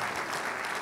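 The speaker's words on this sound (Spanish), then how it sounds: "Un aplauso fuerte" Strong applause from a church congregation at an evangelical gathering, a dense, even roar of many hands clapping, heard alone at moderate level.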